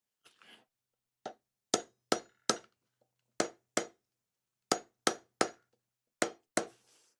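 Sharp metallic hammer blows on hot steel while forging a hot chisel ring out in short clusters of two or three strikes, each crisp and bright with a brief decay, separated by pauses.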